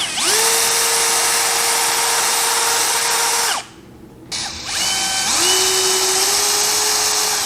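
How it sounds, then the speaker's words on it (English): A drill bit spins into a hole in a Bosch GCM12SD sliding miter saw bracket, whining loudly and steadily. It cuts out briefly, then spins back up and whines on to the end. "I think I'm just going to touch it with the same size drill bit"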